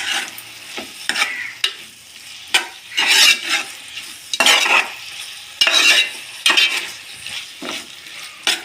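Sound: stirring tomato and onion pieces with chili powder in a pan

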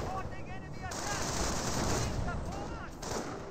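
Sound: machine gun fire in Company of Heroes video game

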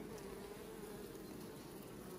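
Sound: honey bees buzzing around a hive

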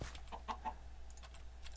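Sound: chicken clucking in Minecraft video game

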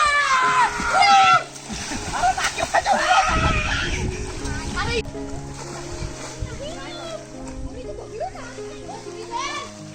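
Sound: children splashing while swimming in river

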